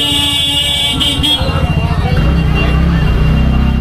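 A car squeezes into a narrow lane in Vrindavan, its engine rumbling steadily amid continuous traffic noise with horn toots, while people talk loudly nearby.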